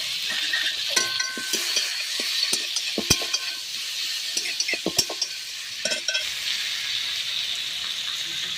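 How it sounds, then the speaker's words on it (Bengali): Chopped tomato is stirred into a sizzling Bhola fish oil curry in a pan, a continuous frying hiss broken by scattered scraping clinks of the spoon against the pan, with no voices. "টমেটো কুচি দিয়ে ভালো করে নাড়াচাড়া করে নেব।"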